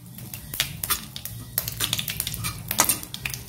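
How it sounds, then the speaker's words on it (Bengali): Mustard seeds and curry leaves tempering in hot oil, giving rapid, irregular crackles and sharp pops close by over a low background sizzle. "এবার এই তেলে আমি একটু সর্ষে ফোড়ন দিচ্ছি। আর একটু কারি পাতা দিলাম।"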